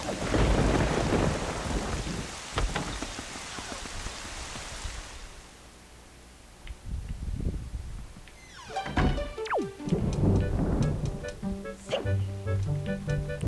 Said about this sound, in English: Not in a storm like this, there won't.